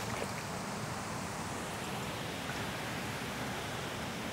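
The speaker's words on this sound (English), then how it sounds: "I don't know if you can hear the river, but the river runs all the way around the plot" A river running around a wet plot of land gives a faint, even rushing hiss, distant and unbroken, with no voices over it.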